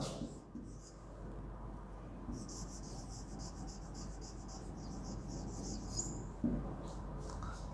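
Chalk scratches across a board in short, faint strokes during a sixth-grade science lesson, a quiet scraping rhythm against a soft room background.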